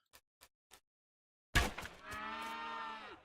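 A demonic cow in the video game West of Loathing lets out a loud, sustained moo that starts abruptly after three faint ticks and holds steady to the end.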